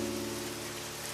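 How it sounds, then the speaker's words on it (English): Steady rain patters on red roof tiles overhead on a rainy night, a soft continuous hiss of drops with no other sound. "the rain has found its rhythm. It patters against the red tiles overhead"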